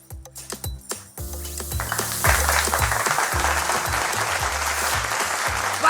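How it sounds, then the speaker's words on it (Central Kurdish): Studio audience applause on a television quiz show, broken clapping with a rhythmic musical beat at first, then swelling into sustained, dense clapping. "سپاس بۆ چەپڵەکانتان"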